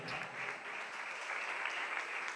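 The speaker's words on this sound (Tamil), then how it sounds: "நல்ல கைத்தட்டி ஆண்டவருக்கு நன்றி சொல்லுங்க" Church congregation clapping together in thanks, a steady, moderately distant wash of applause throughout with no gaps.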